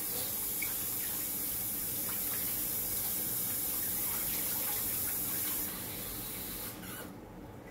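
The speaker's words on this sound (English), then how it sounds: "I'm gonna have to wash this so the water's on" A kitchen sink tap runs steadily, a close hissing stream of water that continues unbroken before dropping in level and cutting off near the end.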